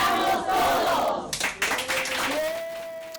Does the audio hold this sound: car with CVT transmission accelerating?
no